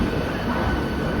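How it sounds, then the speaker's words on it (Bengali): Local train from Howrah to Haldia standing at Howrah station at dawn, a steady close rumble of carriages with faint rail noise filling the moment, no voices. "আমাদের ট্রেন ছেড়ে দিয়েছে, আবার দাঁড়িয়ে পড়েছে কী জন্য জানি না"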